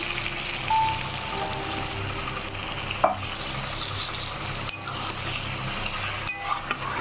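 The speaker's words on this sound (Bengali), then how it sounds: "এবার আমি একটু জল দিয়েছি, আরও খানিকটা জল দিয়ে দিচ্ছি।" Taro and shrimp curry bubbling and sizzling steadily in a pan as water is poured in, with a dense crackle throughout and a few sharp clinks of a utensil against the pan.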